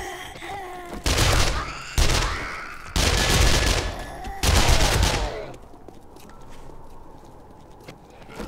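Gunfire from a weapon in the zombie survival game 7 Days to Die, fired in five loud, roughly one-second bursts about a second apart, followed by a quieter stretch of ambient game noise.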